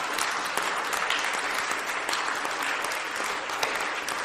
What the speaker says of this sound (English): will you give a big round of applause for the staff that helped produce the last 100 shows?